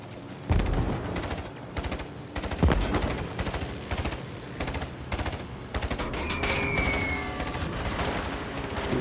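Naval gunfire from a Benson-class destroyer in a video game: a steady barrage of heavy booms and rapid crackling shots, with loud thumps near the start and a faint whistling streak later, all without talk.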